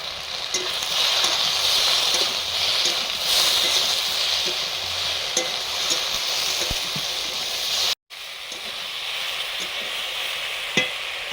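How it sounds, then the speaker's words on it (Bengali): Okra frying in a kadai with salt and turmeric crackles in a loud, continuous hiss, with occasional stirring clicks and one short break. "ঢেঁড়স ভাজার সময় লবণ আর হলুদ দিলাম।"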